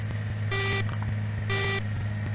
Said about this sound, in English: Okay, so the ground somehow beeping. I believe it's because of it's low altitude.